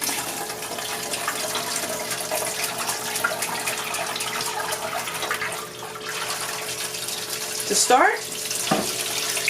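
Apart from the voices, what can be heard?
water poured into pressure canner pot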